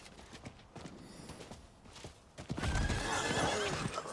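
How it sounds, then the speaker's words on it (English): Horse hooves clip-clop at a trot in a Diablo video game, followed by a loud, close whinny that rises and wavers over the hoofbeats. "Okay, I got a horse."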